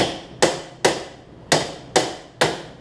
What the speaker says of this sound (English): I'm just taking a hammer and just slowly hitting it out